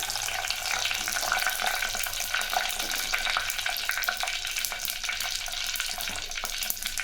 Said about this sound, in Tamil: வெந்தயமும் கடுகும் நல்லா பொரியுது